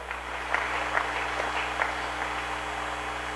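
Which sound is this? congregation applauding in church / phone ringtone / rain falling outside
congregation applauding in church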